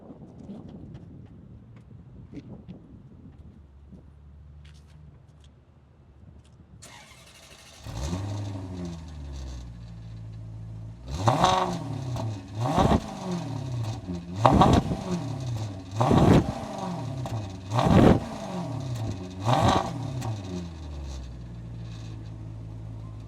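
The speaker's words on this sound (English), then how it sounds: "I'm gonna go right now and start the car up, so you're gonna hear the exhaust of this Maserati GranTurismo." A Maserati GranTurismo starts up after a quiet, windy pause: the engine catches and settles into a steady idle, then a series of sharp throttle blips make the exhaust bark and fall back repeatedly, close and loud.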